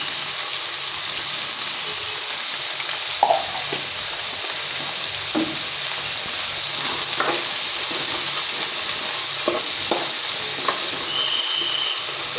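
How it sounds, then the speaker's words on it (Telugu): Chickpeas fry in a pan, giving a continuous close hiss and sizzle with occasional scraping stirs and soft clicks throughout, and no voices over it. "ఇలా మరో 2 నిమిషాలు ఫ్రై చేసుకుంటే సరిపోతుందండి."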